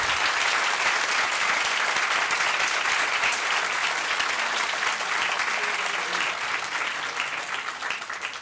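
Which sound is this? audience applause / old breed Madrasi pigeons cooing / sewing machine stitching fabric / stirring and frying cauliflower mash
audience applause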